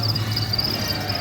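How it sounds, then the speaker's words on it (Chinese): Live crickets for sale in a pet shop in Cairns, Australia chirp in a continuous high, steady trill over a low background hum. "他们有卖活的蟋蟀"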